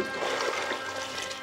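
Hot water poured over pork skin in a pot to wash it, a steady faint rushing pour lasting a moment with no talk.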